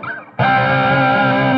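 Distorted electric guitar plays a solo phrase, a short opening note and then a loud sustained chord ringing with heavy overdrive.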